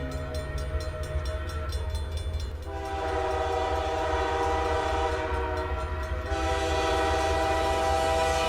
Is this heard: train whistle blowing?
yes